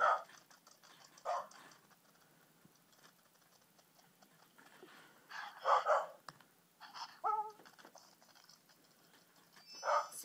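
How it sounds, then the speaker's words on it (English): A robotic toy dog lets out a series of short, bright electronic barks in irregular bursts, close by and alone in an otherwise quiet room. "You need a robotic doggy."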